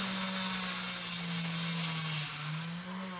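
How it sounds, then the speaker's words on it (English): A Dremel rotary tool grinds a flat base onto a frogspawn coral's rock, giving a loud, steady high-pitched whine with a low hum beneath, close by and continuous, dipping slightly in level near the end. "these Dremel tools is that you can just create a"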